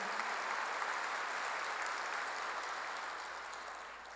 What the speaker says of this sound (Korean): 박수로 영광을 돌리시면